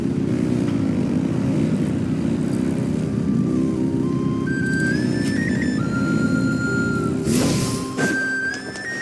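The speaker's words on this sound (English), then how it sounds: "Rev the engines!" Vehicle engines in the video game Genshin Impact drone and rev in a loud continuous hum, with rising whine tones building toward the end.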